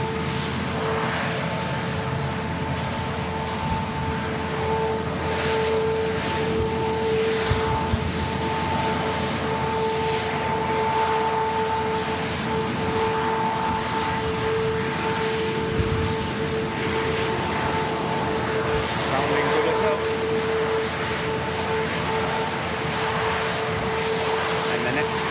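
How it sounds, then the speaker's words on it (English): An Airbus A380 taxis at Manchester Airport, its engines giving a steady broad roar with a sustained whine tone held throughout, while people talk over it. "Taxi past us is this beautiful A380, which put on a great show on arrival into Manchester"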